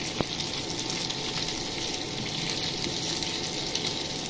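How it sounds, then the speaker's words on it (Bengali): Meatballs, already boiled, lightly frying in a pan with a steady soft sizzle and bubbling hiss that stays even throughout, close by and with no talking. "বলগুলো এবার হালকা ফ্রাই করে নেব।"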